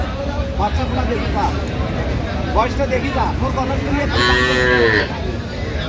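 Several cows and calves moo repeatedly over a busy crowd of chatter at a cattle market in Bangladesh, the lowing rising loud and drawn-out near the end.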